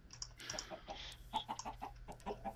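Chickens clucking in an animal barn in modded Minecraft, a series of short, bright in-game clucks and pecking sounds repeating over a steady low hum of background game audio.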